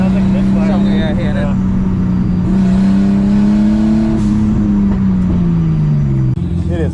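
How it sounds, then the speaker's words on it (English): A car engine misfiring while hot at a drift event, idling and revving unevenly nearby, its drone wavering up and down with rough stumbles, while someone talks over it. "The car is misfiring."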